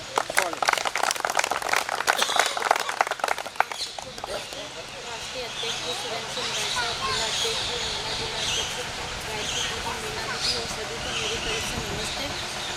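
Audience at an office inauguration ceremony of a Kshatriya association gives loud, close clapping for Hemlata Tomar, a dense burst of applause lasting about four seconds that fades into someone speaking into a microphone.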